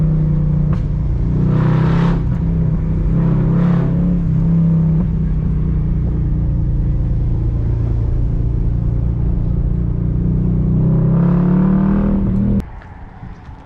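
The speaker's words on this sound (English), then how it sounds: "I'm gonna put some clips of me revving it or just driving it down the canyons so you guys can hear it" A 2006 Mercedes-Benz CLS 500 (W219) with a near straight-piped exhaust revs sharply a few times with a raw, throaty note, idling rough between blips before cutting off abruptly.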